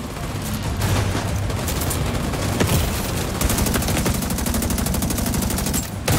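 Sustained automatic gunfire in The Division 2, rapid rattling bursts fired at an armored enemy, dense and continuous across the whole stretch with heavy impacts mixed in, no talking.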